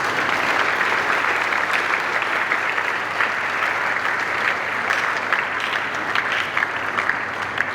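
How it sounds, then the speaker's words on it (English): Steady, sustained applause from a large audience at a university distinguished speaker series event fills the full length, a dense wash of hand claps welcoming speakers as they walk in, with no talking. "Shall we give them a round of applause as they enter"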